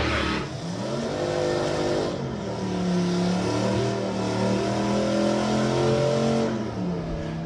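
A drag racing car launches down the strip at Santa Pod Raceway, its engine roaring in a long, loud, rising drone through the gears, then holding a high steady note as it pulls away, with no voices.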